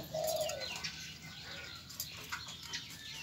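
A soft, low coo from a four-year-old spotted dove drifts in over a quiet outdoor background, with faint chirps and a brief flutter of wings.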